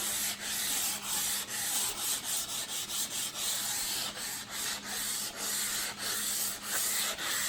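Hand sanding an LS 5.3 engine block deck with 220 grit sandpaper: steady rhythmic back-and-forth scratching strokes, close and continuous, with a faint low hum underneath and no talking.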